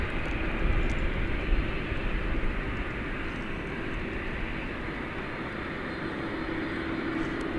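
An American Airlines jet takes off at night at DFW Airport, a broad, steady engine roar heard from a distance that holds constant with no talking.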